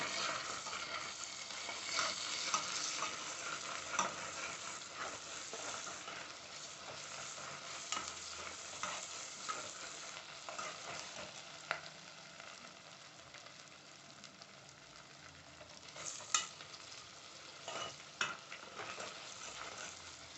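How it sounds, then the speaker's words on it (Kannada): Garlic ginger paste frying in oil for chicken biryani, a steady close sizzle and crackle with occasional clicks of a stirring spoon, continuous and fairly quiet throughout. "ನಾನು ಇದು ಬೆಳ್ಳುಳ್ಳಿ ಶುಂಠಿ ಪೇಸ್ಟ್ ಹಾಕ್ತೀನಿ. ಇದಕ್ಕೆ ಇದು ಚೆನ್ನಾಗಿ ಫ್ರೈ ಮಾಡ್ಕೊಳ್ಳೋಣ"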